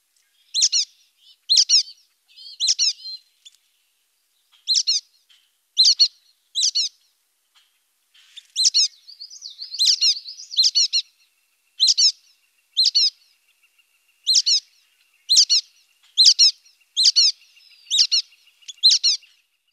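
Brown-headed nuthatch giving relaxed squeaky calls: bursts of high, thin, close squeaks, mostly in pairs and short clusters, repeated irregularly over about twenty seconds in otherwise quiet surroundings.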